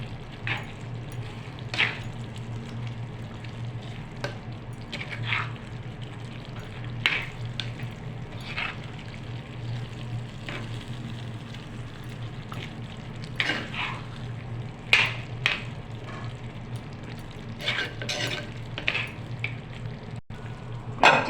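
Chicken curry frying in a pan as chili powder is stirred in, a steady low sizzle with scattered spoon scrapes and clinks against the pot, fairly quiet with no talk.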